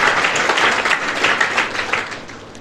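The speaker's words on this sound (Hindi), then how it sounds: "आर्या के लिए जोरदार तालियां बजाइए।" A roomful of people clapping enthusiastically, a short burst of loud, close applause with uneven swells.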